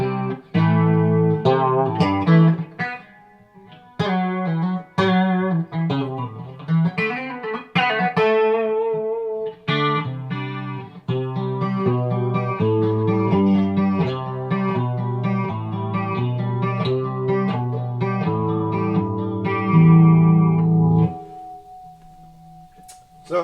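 Electric guitar played through an EHX Clone Theory chorus pedal, clean chords and picked notes with a shimmering, wavering chorus tone, ringing clearly and loud with brief pauses between phrases and a final sustained note.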